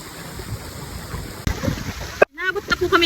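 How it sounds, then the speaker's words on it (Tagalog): Heavy rain roars steadily as a dense wash, close and loud, with a sudden dropout partway through, then someone speaks over the continuing downpour. "Naabot na po kami ng malakas na ulan."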